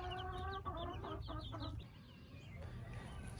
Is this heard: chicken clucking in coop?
yes